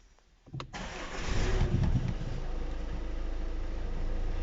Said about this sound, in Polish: teraz normalnie wsiadam do samochodu, odpalam samochód.